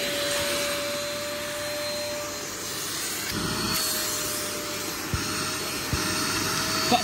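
A vacuum cleaner, rescued from disposal and tested on a mess, runs steadily and fairly close for the full stretch, a continuous whirring drone with a few small knocks and bumps near the end.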